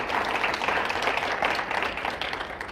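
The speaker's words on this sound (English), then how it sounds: "another round of applause for our students who courageously came up and asked questions this evening" An indoor audience at a community forum applauds steadily, a dense wash of many hands clapping at even loudness throughout, with no clear talking over it.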